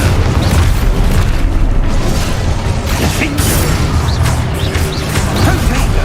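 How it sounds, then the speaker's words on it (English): Explosion in the video game Hogwarts Legacy, a loud booming blast with crashing, creaking debris that fills the whole stretch at a dense, sustained level. "Explode."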